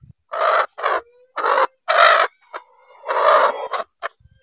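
A hen clucks and squawks in a series of loud, separate bursts close to the microphone, with short gaps of quiet between calls.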